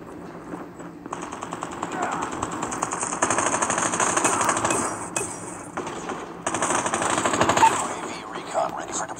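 Rapid automatic gunfire in the Call of Duty video game, a dense rattling stream of shots that runs almost without break, fairly loud, with a brief lull midway before firing picks up again.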